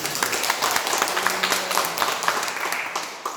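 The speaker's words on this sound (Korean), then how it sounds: "박수로 하자" An audience at a pastors' retreat applauds to welcome a pastor, a continuous, fairly loud roll of many hands clapping together.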